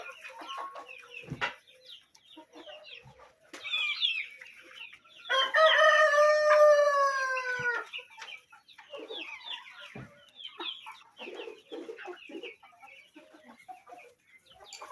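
Village hens clucking in short, irregular bursts close by, with a rooster's loud crow rising over them in the middle.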